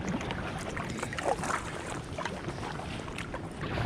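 An inflatable drop stitch kayak paddled along the River Ouse, with soft water swishes and wash against the hull under steady wind rumble on the microphone, faint and continuous with no talk.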